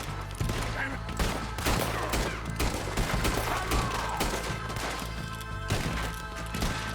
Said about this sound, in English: I'm using 2 handguns.